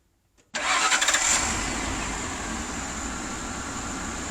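After a moment of near silence, a 1997 van's engine cranks briefly with a key and catches, then settles into a steady, fairly quiet idle close by.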